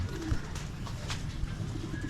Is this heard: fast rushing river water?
no